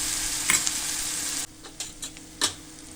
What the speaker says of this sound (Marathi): ही पेस्ट आपण इथे टाकलेली आहे आणि हेही आपण आता परतून घेऊया